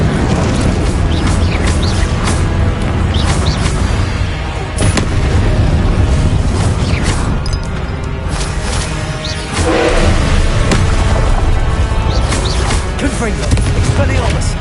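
Confringo and Incendio spell blasts in Hogwarts Legacy, a dense, loud run of booming impacts and crackling bursts over constant combat noise, with a voice speaking over it.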